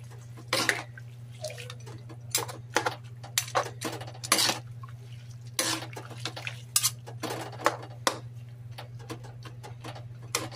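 Pancit guisado noodles being tossed and mixed in a pan, with sharp scattered clinks and scrapes of a utensil against the pan over a steady low hum, no talk.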